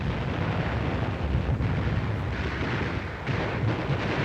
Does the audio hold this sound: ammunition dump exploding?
yes